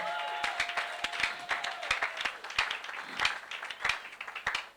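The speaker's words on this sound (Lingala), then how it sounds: "Est-ce qu'on peut acclamer le Seigneur?" A church congregation applauds and cheers during a sermon, with loud sharp claps in an uneven rhythm over a steady crowd roar and brief tones at the start.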